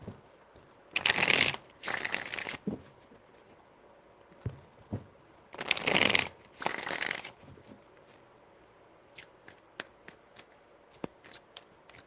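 A deck of tarot cards is shuffled by hand in several separate riffling bursts, close and crisp, with scattered soft taps and clicks between them and no talking.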